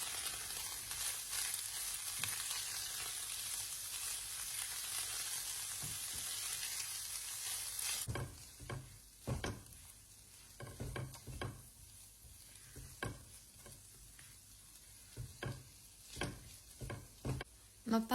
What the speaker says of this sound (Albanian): Kavardisi mishin bashkë me qepën derisa qepat të ndryshojnë ngjyrë.